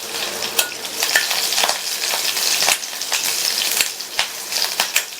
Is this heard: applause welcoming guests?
no